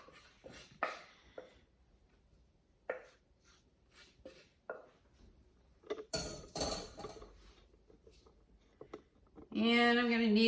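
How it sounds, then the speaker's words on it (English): Sourdough dough is tipped from a bowl onto a work surface and scraped loose in scattered soft scrapes and taps, followed by a short burst of louder clatter at the end. "I'm gonna go ahead and pour this out onto my surface so I could do a little kneading."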